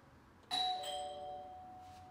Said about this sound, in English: when I ring the doorbell here